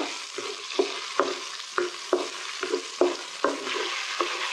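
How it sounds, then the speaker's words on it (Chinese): Hotpot base stir-fries in rendered mutton fat, giving a steady sizzle broken by regular scraping strokes of a spatula against the wok, about ten in a loose rhythm, close and clear, with no talking. "炒出红油"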